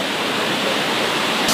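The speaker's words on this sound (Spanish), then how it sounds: "Ahí tenemos la última vista de la cascada." Cascada del Amor waterfall in Ecuador, a constant broadband roar of falling water heard up close, steady and loud throughout with no voices.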